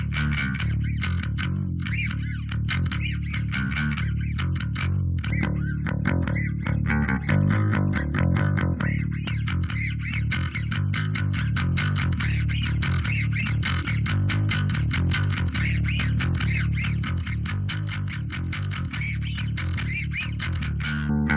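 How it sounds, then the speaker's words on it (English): A bass guitar recorded in a home studio plays a repeating groove, switching between a clean tone and a gritty, distorted overdrive sound; it is steady and upfront, and no one talks over it. "we'll A-B with and without the bass overdrive"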